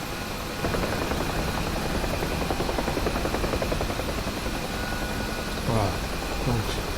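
A UH-1H Huey helicopter in the DCS flight simulator gives a steady rotor and engine drone throughout, while someone speaks over it.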